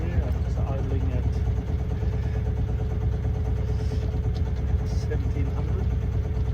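A sailing yacht's inboard motor idles at 1700 rpm, steady and low-pitched with an even, pulsing rumble, close and constant throughout.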